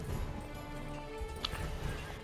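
A horse in the Das Schwarze Auge video game clops its hooves and gives a short whinny, moderately close over a faint background.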